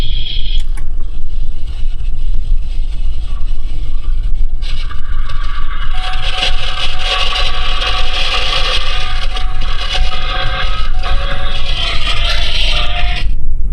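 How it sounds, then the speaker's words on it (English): A steady mechanical whine with tonal bands from a rear differential rises over a constant low rumble, loud and continuous, heard through a chassis ear on the vehicle's structure. "it sounds like that rear diff is just singing to me through the box here"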